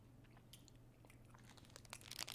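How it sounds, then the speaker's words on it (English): A person chewing close up, with soft crunchy bites that grow louder and denser toward the end over a low background hum. "It's him chewing."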